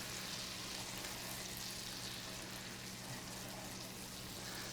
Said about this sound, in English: we're gonna mix this in and let it cook, almost like you're sauteing onions, but we're doing it for our garlic